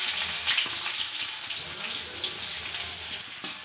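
Onions crackle and hiss in hot oil with cumin in a kadai, a dense, even sizzle close by with a few stirring knocks and no speech.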